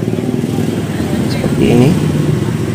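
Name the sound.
vehicles passing on road beside Lake Sarangan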